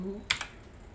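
A couple of quick, faint keystrokes on a computer keyboard while entering an email ID, brief clicks in a quiet room.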